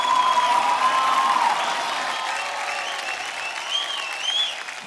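Audience applause at the Times of India Film Awards ceremony, a dense sustained clapping from a large crowd with a few cheers, holding steady then tapering slightly.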